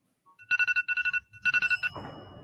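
A phone ringtone rings in two bursts of rapid repeated electronic tones, loud and close, then gives way to a muffled rustle as it stops.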